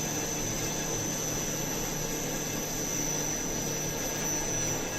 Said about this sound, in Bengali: মেইন যে মেশিন, আর মেশিন রান হচ্ছে।